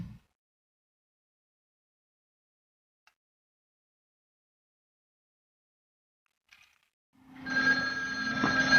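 Telephone rings indoors, a bright electronic ringing tone with steady harmonics that starts suddenly near the end after a long stretch of near silence, preceded by a faint brief click.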